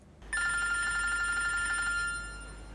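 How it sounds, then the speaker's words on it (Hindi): A telephone rings with a bright electronic trill, steady and fairly close, then cuts off near the end with no voices. "तुम्हारा फोन बज रहा है"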